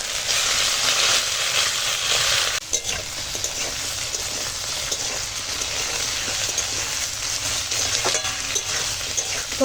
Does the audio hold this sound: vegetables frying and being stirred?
yes